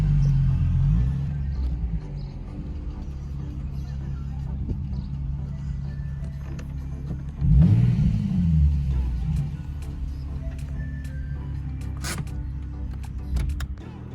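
A Nissan 370Z fitted with new intakes drives along, giving a steady low engine rumble inside the cabin with a brief louder surge partway through, and no talk over it.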